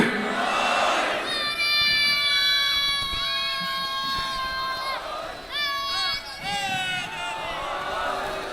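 A crowd at a mourning gathering chants religious slogans in loud, drawn-out unison cries that swell in repeated waves, with a voice rising over them.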